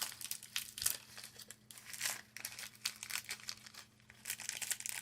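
Tightly sealed plastic packaging being pried and torn open for fall DIY decor, with bursts of close crinkling and crackling broken by short pauses, fairly quiet overall.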